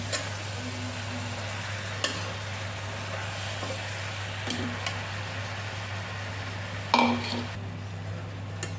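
Tomato pieces are stirred into a pan of coriander chutney, with a few sparse, soft scrapes sitting over a steady low hum and faint sizzle.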